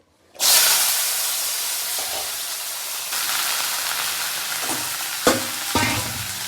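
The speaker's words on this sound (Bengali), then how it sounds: "আর এখানে কড়াই চাপিয়েছি, এটা ভাজা তুলবো।" Okra, beans, potato and plantain hit hot oil in a wok with a sudden loud hiss that settles into a steady, close sizzle, broken near the end by two sharp clinks of a spatula.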